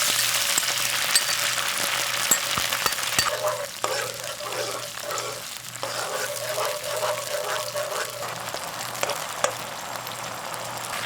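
Sauce mixture hits hot oil with fried garlic and shallots in a pan, a loud hissing sizzle that settles into bubbling, with intermittent stirring scrapes.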